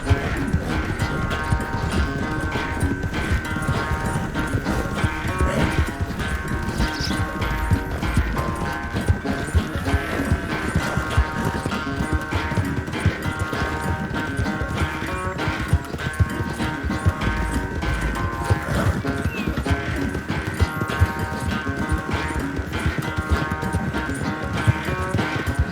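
Horse hooves galloping in Red Dead Redemption 2 during a race, a dense continuous clatter with game music and rumble underneath, steady and loud throughout, with occasional faint voices.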